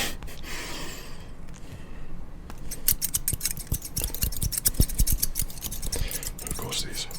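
Barber scissors snip repeatedly at close range, a run of crisp, bright metallic clicks with a trickling rattle of blades, some in quick clusters, over soft background rustle.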